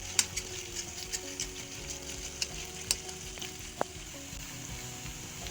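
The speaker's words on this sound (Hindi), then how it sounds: "प्याज को अच्छे से भून लेंगे।" Finely chopped onions with a few slit green chillies frying in a pan for Amritsari Pindi chole, a steady soft sizzle with occasional light clinks and stirring taps, close and alone.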